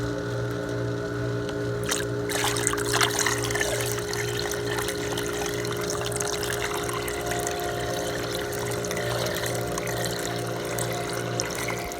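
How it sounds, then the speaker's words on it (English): Diluted pool shock is poured slowly into a swimming pool skimmer, giving a continuous soft trickling and splashing of liquid against a steady low mechanical hum, with no talk. "I'm trying to pour it one-handed, but you pour it slow"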